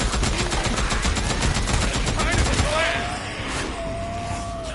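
Rapid bursts of gunfire rattle loudly in the zombie video game Dead Island 2, dense automatic shots stacking up before fading into quieter ambience with a brief voice under it.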